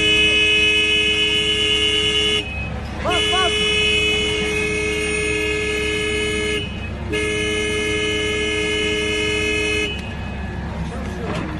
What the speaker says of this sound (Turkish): Bak kornaya bak kornaya.